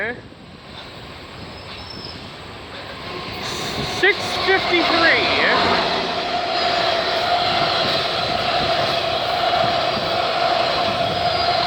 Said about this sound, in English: Yeah, I hear a GO train